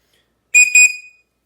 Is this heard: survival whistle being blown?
yes